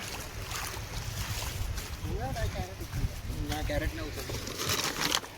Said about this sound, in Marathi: उतरलो आता आम्ही बोटींशी बघ आमचं बोट चाललंय